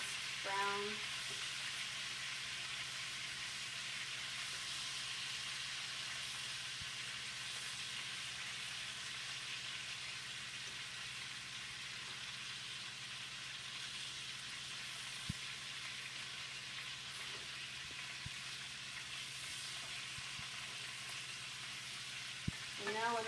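Meatballs browning in grease in a frying pan give a steady, close sizzle and crackle that runs unbroken, with a few faint clicks from the pan.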